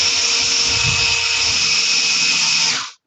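An electric food processor or blender grinds hemp seed burger mix in a home raw-food kitchen, one steady loud whirring drone with a high whine that runs unbroken for about three seconds, then cuts off abruptly.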